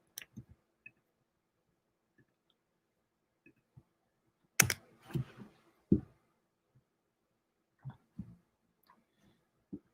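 Keys on a computer keyboard are tapped while a terminal command is typed: sparse, quiet clicks in small irregular bursts with long pauses, plus a few louder clacks near the middle, and no talking.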